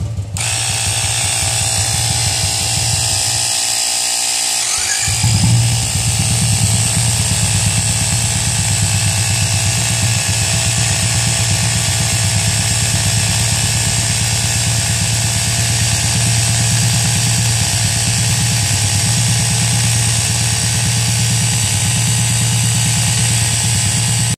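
A portable electric air pump inflating a two-wheeler tyre, a steady buzzing whine that runs continuously and loudly over the idling engine of the vehicle.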